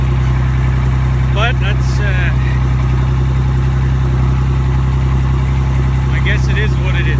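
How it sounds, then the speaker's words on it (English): A Case IH 986 tractor engine idles steadily nearby in a farm setting, a constant low rumble running throughout while someone speaks briefly over it. "the 986 is still running"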